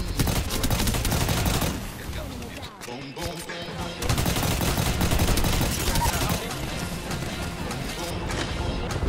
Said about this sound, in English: Ooh, somebody shooting behind me.